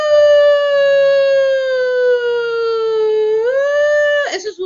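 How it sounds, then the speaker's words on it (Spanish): A long, steady siren wail holding one loud, harmonically rich tone for several seconds, then rising in pitch before cutting off abruptly into a brief noisy burst. "por ejemplo, como dijimos delante, una sirena."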